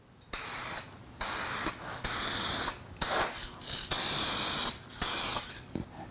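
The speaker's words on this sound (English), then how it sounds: "Alrighty, here's our first coat." An aerosol spray can lays a first coat on a hazy, yellowed car headlight under restoration, with about six close, loud hissing bursts separated by short pauses.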